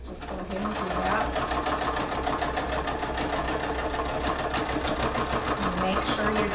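A sewing machine stitches a large fabric tote bag with a rapid, even mechanical whir that runs steadily throughout.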